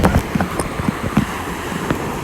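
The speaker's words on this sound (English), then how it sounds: "we are here at the beach" Waves washing onto a beach, a steady broadband rush with a few soft surges, heard alone without talk.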